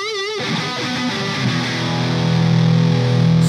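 An electric guitar runs through a distortion pedal with the gain maxed, giving a thick, lo-fi, synth-like sustained tone that swells louder as the notes ring out, with no talking.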